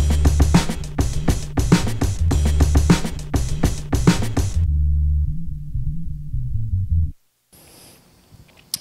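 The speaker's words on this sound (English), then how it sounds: "So the bass line over the drums would sound like this." A DJ beat plays loud and close, punchy drums with a heavy EQ-filtered bass line for several seconds, then the drums drop out leaving the sustained bass alone, followed by silence and faint room noise.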